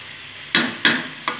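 Young jackfruit and potato are stir-fried in a pan for a vegetarian dish: three quick scraping strokes of a spatula over a soft background sizzle, close and without talk.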